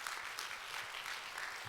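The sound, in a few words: applause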